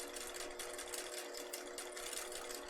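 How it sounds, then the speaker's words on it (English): A sewing machine stitches elastic into the short end of a fabric scrunchie, a steady, fast, even whirring hum running continuously and fairly quiet with no talk. "sew that short end, catching that elastic as you're sewing"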